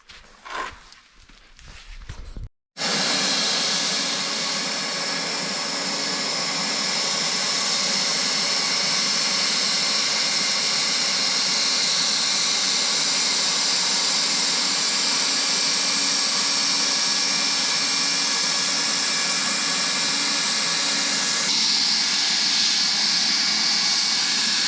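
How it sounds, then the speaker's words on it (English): A plastic welder heating up to weld the edge of an aftermarket taillight lens: after a short stretch of handling noise, a loud steady whirring hot-air blower roars continuously, close and unbroken, rising slightly in intensity near the end. "I'm just gonna do a little bit of plastic welding around the whole edge of it"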